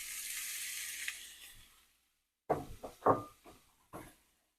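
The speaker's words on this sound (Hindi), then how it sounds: "देखिए फ्राई हो रहा है" Oil sizzles and hisses in a pan on a medium-low flame for about two seconds, fading out, followed by a few sharp clattering knocks of utensils or cookware.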